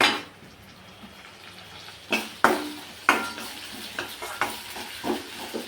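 Sliced onions fry in a pan for a besan puri curry, a continuous soft sizzle broken by several sharp scrapes and clinks of a spoon stirring against the pan, close up and with no talking.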